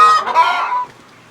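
A farm meat-bird chicken gives a loud, close, drawn-out cluck lasting under a second, then fades into quiet.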